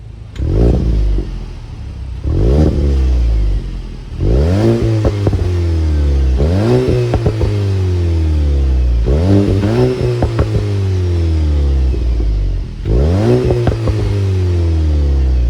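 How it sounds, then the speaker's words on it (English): A Volkswagen 2022 Mark 8 GTI's 2-liter turbocharged engine revs repeatedly, each rev climbing sharply then falling back, about six loud close-up bursts over a steady idle. "that was of course the sound of the 2-liter turbo sold by Volkswagen for this 2022 Mark 8 GTI"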